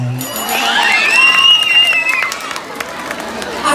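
A festive crowd at a Ms Gay pageant during a neighborhood fiesta in Sitio Bayan-bayanan cheers, shouts and claps in a loud, continuous roar, with high whoops and shrill voices rising above the din.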